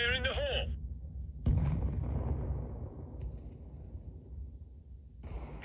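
A flashbang grenade goes off in the video game CS:GO on the Cache map, a sudden loud boom that fades into a long rumbling tail. A brief voice is heard just before it.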